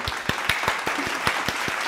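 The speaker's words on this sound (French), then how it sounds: "Applaudissements" A few people clap in a small, fairly close burst of evenly spaced claps during a cooking challenge at home, brief and without voices.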